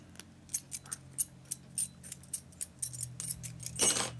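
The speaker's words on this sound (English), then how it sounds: "gotta get rid of the key on here because I got too many keys" Metal keys on a key ring being worked off the ring during repair of an early-1900s door lock, giving a series of short, sharp clinks and scrapes in an uneven rhythm, close up and without speech.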